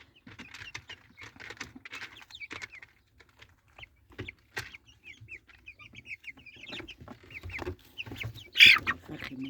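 Egyptian baladi chickens cluck and call in the sun, with scattered short clucks and squawks close by, some louder bursts near the end, and quiet pauses between them.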